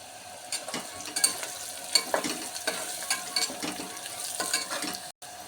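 Onions and curry leaves frying in hot oil for a potato and chana dal curry, a continuous crackling sizzle near the mic, broken by repeated scraping stirs of a spoon in the pan.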